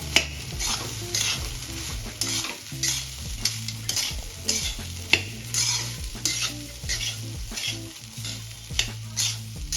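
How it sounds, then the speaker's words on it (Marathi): Boiled rice being stirred and mixed in a pan for street-style egg rice, with repeated close scraping and clanking strokes of a spatula over a continuous sizzle, rhythmic and fairly loud throughout. "आता आपण यामध्ये बॉईल केलेला राईस ऍड करून घेऊया राईस व्यवस्थित मिक्स करून घ्यायचा"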